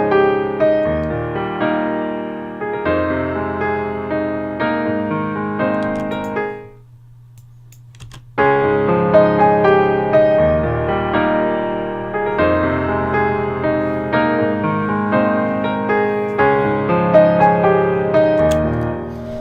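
A dry orchestral pop piano part played without plugins or reverb: clear sustained chords and melody notes, loud and close, broken by a short near-silent pause midway before the playing resumes.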